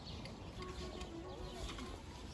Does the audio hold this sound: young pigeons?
yes